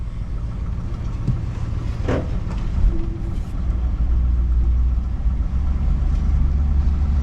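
A 1977 Ford LTD station wagon, abandoned seventeen years in a junkyard, runs as it drives, its engine a steady close rumble with one brief sharper noise early on.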